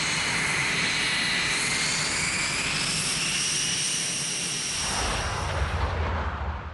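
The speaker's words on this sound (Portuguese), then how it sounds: "Uma aeronave de reconhecimento Lockheed U-2 voa regularmente sobre a União Soviética, a mais de 20 mil metros" A Lockheed U-2 reconnaissance aircraft flies high overhead, a steady jet roar with a faint whine that shifts in pitch and then fades as it passes.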